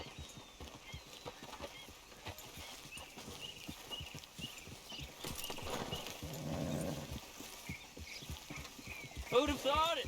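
Horse hooves clip-clop at a steady walking rhythm in the Red Dead Redemption 2 game, continuing beneath a voice with a faint whinny and other game ambience around them.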